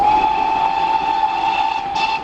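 An auto tank steam locomotive on the Dawlish Donkey sounds a long, steady whistle that holds a sustained tone for the whole stretch, with a brief extra burst near the end over a background hiss.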